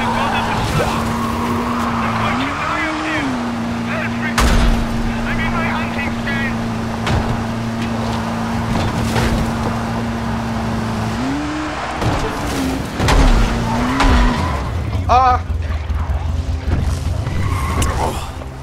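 Fast car in the zombie video game Dying Light, its engine droning steadily with pitch rising as it accelerates, plus skids and crunching impacts; someone talks over much of it.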